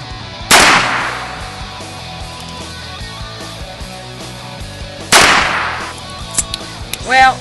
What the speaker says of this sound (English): I'm going to see what kind of penetration I get with the 22 long rifle.